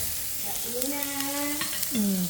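Food frying in hot oil sizzles steadily throughout, a dense crackling hiss with occasional louder spatters, while tonal voices or calls drift in the background without any clear talk.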